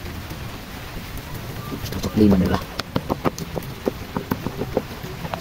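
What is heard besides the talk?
rain falling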